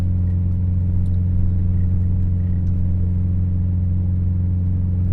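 Steady engine drone from a vehicle held at about 3,000 RPM in first gear, crawling slowly downhill over snow packed on ice; a loud, even low hum with constant pitch throughout, no talking.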